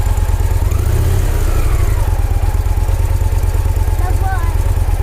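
Motorcycle engine idles loud and steady with a strong low throbbing rumble that runs the whole time, with faint voices in the background and no clear revving.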